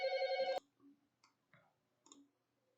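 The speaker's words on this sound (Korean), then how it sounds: "전화가 왔네." A telephone bell rings once with a bright, buzzy electronic tone for about half a second, then cuts off, followed by a few faint clicks and small knocks in a quiet room.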